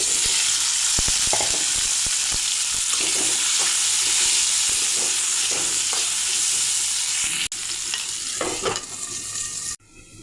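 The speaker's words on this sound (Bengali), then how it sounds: "এখন আলুগুলো আবার ভেজে নেব।" Potatoes fried in mustard oil in a wok give a loud, continuous sizzle with scraping stirs throughout, briefly cut off near the end.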